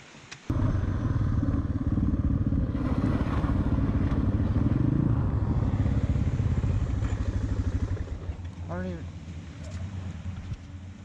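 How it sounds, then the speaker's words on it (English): A motorcycle rides through rain on wet roads, its loud, close engine roaring steadily with spray hiss for most of the stretch, then easing near the end. "Rain, motorcycles, wet roads."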